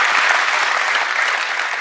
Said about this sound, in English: Again, a big applause.